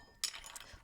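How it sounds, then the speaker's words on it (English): Ice drops into a bartender's mixing glass with a single bright clink and a brief rattle, close and fairly quiet, alone without talk. "I'm going to put ice in my mixing glass."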